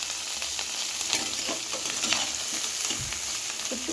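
Cauliflower frying in hot oil in a home kitchen, a steady close sizzle with scattered crackles and soft stirring scrapes throughout, no talk.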